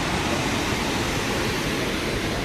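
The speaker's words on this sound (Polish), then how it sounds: "Wodospad Sawica całkiem spoko, ale nie taki duży" Savica waterfall in Slovenia roars as a dense, unbroken rush of falling water, close and loud with no pauses or voices.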